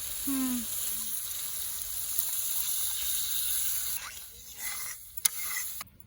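Water poured into a simmering pan of pumpkin-leaf and chickpea dal curry, making a steady hissing sizzle and gush with a few clanks near the end.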